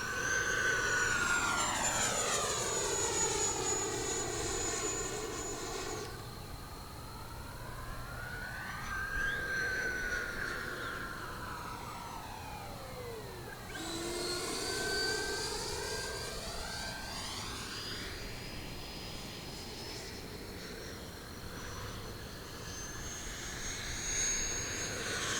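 An E-Flite Viper 70 RC model jet makes a flying pass: a high electric-ducted-fan whine rises and falls with strong Doppler sweeps as it passes close overhead, circles away and returns loud, then fades to a steady distant drone.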